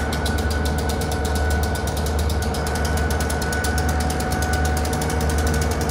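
Freight train locomotives, NECR 608, idle at a rail diamond crossing, a loud steady low diesel rumble with rhythmic throbbing pulses and a faint whine, continuous throughout.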